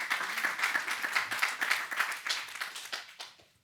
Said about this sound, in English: So the applause is for our technicians